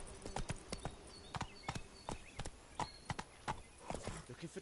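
A horse's hooves clip-clop at a steady trot in The Witcher 3, with rhythmic, fairly faint hoof strikes and a brief neigh.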